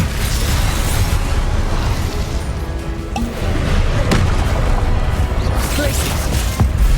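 Fire spell cast in the Hogwarts Legacy video game, a dense, loud roaring burst of flame and explosive rumble that fills the whole stretch, with a voice shouting over it.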